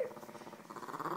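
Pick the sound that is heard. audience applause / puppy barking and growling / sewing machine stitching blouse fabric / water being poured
puppy barking and growling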